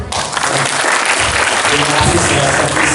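An audience applauds on a school study tour, a dense, loud, steady wash of clapping that fills the whole moment, with a voice faintly underneath.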